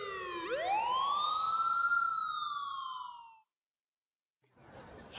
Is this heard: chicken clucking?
no